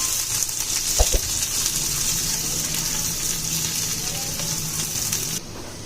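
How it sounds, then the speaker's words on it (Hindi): Carrots, chicken and square-cut capsicum sautéing in a pan for white sauce pasta: a constant loud hissing sizzle, with two quick knocks of the utensil early on. "शिमला मिर्च ऐड करके भी हमने इसे चंद सेकंड तक सौते किया है"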